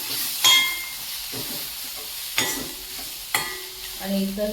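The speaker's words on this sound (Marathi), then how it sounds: "म्हणजे ते पण कांदा आणि टोमॅटो बरोबर चांगलं परतवलं जाईल." Spices, chili and homemade garam masala sautéing with onion and tomato in a pan for rajma masala, a steady sizzle and hiss broken by a few scraping stirs and light clinks of the spoon against the pan.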